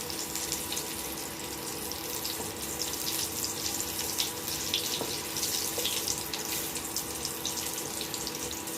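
Potatoes fry in a pan in a home kitchen with a steady, close crackling sizzle that holds at an even level throughout, with no speech.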